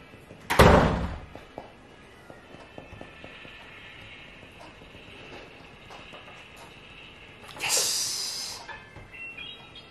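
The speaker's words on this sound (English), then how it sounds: "Just close the door, Rachel." A door swings shut with a sharp, loud slam near the start, followed by quieter room noise and a second broad burst of sound later.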